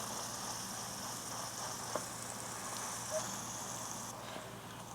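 Lion's mane mushroom pressed flat under a plate in a hot pan, a steady close hiss of sizzling oil with faint crackles, no talk.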